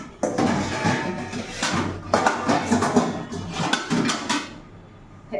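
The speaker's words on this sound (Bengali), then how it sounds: "এখন পেঁয়াজ কুচিয়ে নিলাম" Onions being chopped with a knife on a board in a home kitchen, giving repeated sharp knocks in quick bursts with short pauses, close and fairly loud, with no talking.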